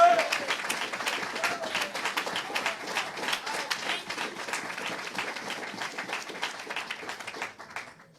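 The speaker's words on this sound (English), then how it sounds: "Let's give Sister Sadiyah a round of applause." Sustained applause from the audience at a religious lecture for someone speaker, dense clapping that carries on for about eight seconds before tapering off at the end, with voices heard among the claps.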